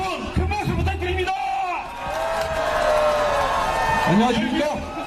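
A crowd at an outdoor political campaign rally at a busy downtown intersection in Geoje cheers and claps, a continuous roar of voices and whoops beneath an amplified announcer speaking over the noise.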